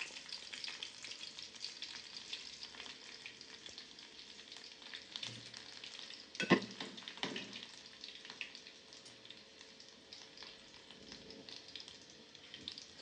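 Garlic sizzling in a couple of spoons of hot oil in a pan, a steady bright crackle throughout with a few louder clatters around the middle, no talking.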